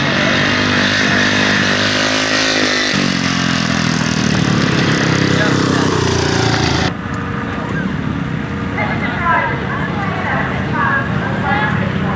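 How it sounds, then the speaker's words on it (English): A grasstrack racing motorcycle at a 1990 meeting runs through the race distance, its engine loud and sustained under continuous public-address commentary before the tone drops after about seven seconds. "a little way back, we should have Peter Reid completing race distance"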